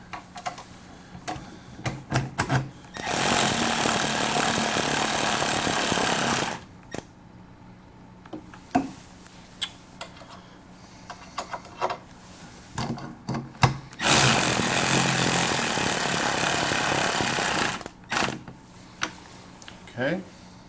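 A power tool runs in two long loud bursts of several seconds each, tightening bolts on the water pump of a Mercury two-stroke outboard, with scattered clicks, knocks and handling noises between the runs.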